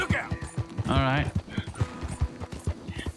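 Horse hooves clip-clop in the video game Red Dead Redemption 2, a steady even rhythm of close hoof strikes, with a short whinny breaking in partway through.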